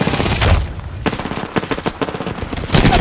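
Rapid bursts of automatic gunfire in the video game Apex Legends, loud and close, with brief gaps between sharp volleys and a dense opening stretch.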